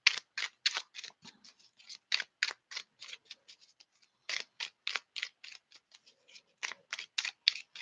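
A deck of cards is riffled and shuffled in quick, crisp bursts of flicking snaps, repeated many times close up.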